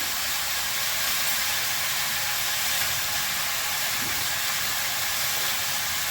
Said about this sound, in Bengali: এবার আমি পুরো সবজিটা ঢেলে দিচ্ছি